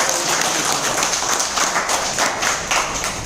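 An audience at a business and health-products seminar applauds in a steady, dense wash of clapping that stays at an even, fairly loud level for the whole stretch.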